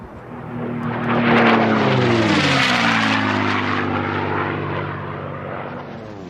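An unlimited class racing airplane flies low over the desert at a national championship air race, its loud propeller engine roar sweeping past with a strong pitch drop as it passes close by.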